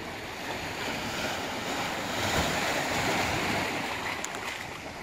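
Pacific Ocean surf rolls onto the beach at the edge of Ucluelet on Vancouver Island, a steady broad wash of waves with wind buffeting the microphone, no voices heard.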